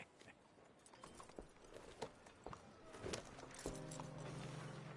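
Horse hooves clop at a walk in Red Dead Redemption, faint irregular thuds with light mechanical clinks of tack, ending under a low steady hum.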